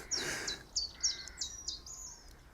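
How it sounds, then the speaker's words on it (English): Several short, bright bird chirps repeat in a loose rhythm over a quiet background, clear and fairly close, with no talking. "Listen to the bird song instead."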